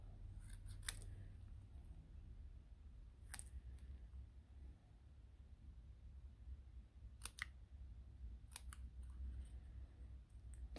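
Scissors snip scrap card paper during fussy cutting, a few quiet crisp clicks spaced irregularly, some in quick pairs, over a faint low hum.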